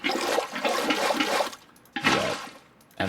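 Water poured from buckets in Minecraft, rushing splashes that run for over a second, pause, then gush again briefly, loud and close.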